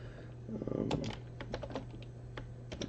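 Computer keyboard typed in short irregular bursts of key clicks, fairly quiet and close, with a low hum underneath.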